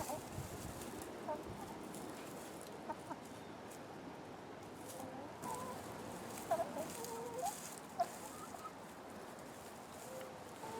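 Backyard chickens in a garden cluck softly at a distance under steady outdoor background noise, with a couple of brief sharper calls standing out.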